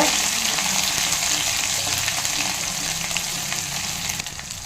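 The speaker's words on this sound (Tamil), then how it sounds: "அது சேர்த்து அந்த எண்ணெயில் நல்லா அந்த பச்சை வாசனை போகிற அளவுக்கு பொரிய விடுங்க" Steady, dense sizzling of ginger garlic paste frying in hot oil, close by, continuous with a slight fade toward the end, no talking.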